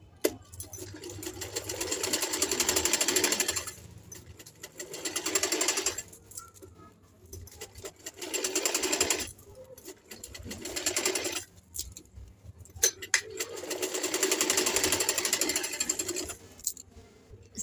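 Sewing machine stitching fabric for a suit: three long runs of fast rhythmic mechanical whirring, close and steady, separated by short pauses with light handling sounds.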